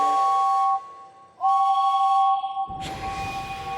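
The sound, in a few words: cartoon steam engine James whistling loudly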